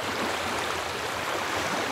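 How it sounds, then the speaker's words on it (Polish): Ocean waves wash steadily onto a beach, a dense, continuous rushing surf that stays loud and even throughout, with no distinct breaks between swells and no voices. "Wsłuchaj się teraz w rytmiczne fale."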